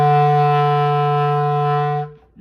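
A single sustained low E on a bass clarinet, steady and clear for about two seconds before it stops, played alone at close range.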